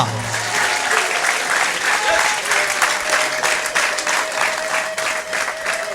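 A church congregation applauds in a dense, sustained burst of clapping that runs steadily from start to finish, with no pauses.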